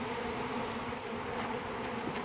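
Honeybees hum steadily at an open hive during an alcohol wash for varroa mites, a dense, continuous close buzz with no voices over it.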